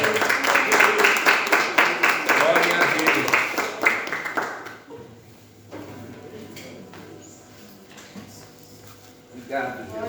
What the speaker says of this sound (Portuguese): Aplauda o nome santo do Senhor.